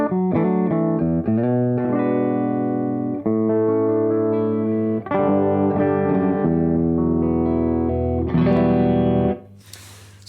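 Clean electric guitar from a parts-built instrument, run through a Cherry Tone amp into an ENGL cabinet impulse response: a dark-toned sequence of sustained chords and single notes played close and alone, ending in a brief noisy pick scrape.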